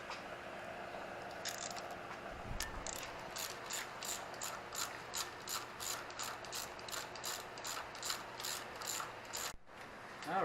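Torque wrench ratcheting on cam cap bolts of a 2007 Subaru Impreza 2.5i SOHC engine, a fast series of crisp metallic clicks in a steady rhythm, close and alone.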